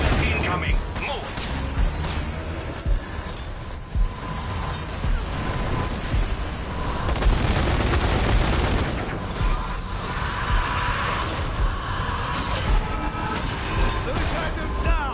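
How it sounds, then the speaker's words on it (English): Incoming mortar rounds and explosions in the video game Zombie Army 4 boom across dense, loud battle noise with steady gunfire and rumbling, while game voices call out over the chaos. "Mortars incoming. Move."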